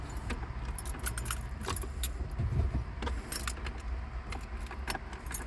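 Close, steady jangling of a key ring and repeated metallic clicks as the ignition key of a 1990 Volkswagen Golf GL MK2 is turned and the car fails to start, with no talking.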